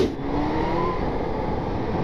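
The engine of a Kawasaki Z1000 H2 motorcycle revs steadily at close range, a continuous loud drone that holds throughout after a brief dip at the start.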